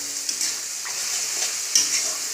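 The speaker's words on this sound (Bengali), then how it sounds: "মশলাটা বেশ কষা হয়ে গেছে।" Spice masala for ghugni is stirred and fried in a pan, a continuous close sizzle with occasional scraping strokes of the spoon and no talk.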